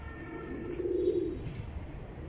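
Pigeons kept for flying, some with red eyes, give one soft throaty coo up close against a quiet background.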